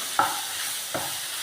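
Banana pieces being stirred as they fry in a pan for a quick egg-and-plantain snack, with two brief scraping strokes over a steady hiss of sizzling oil.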